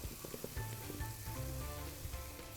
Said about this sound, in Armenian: մի քիչ թողնում եմ տապակվի 2 րոպե